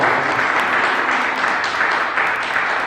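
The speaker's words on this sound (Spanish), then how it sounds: "Denle un aplauso." Church congregation applauding a speaker at a Sunday service, dense clapping from many hands filling the room steadily for a few seconds.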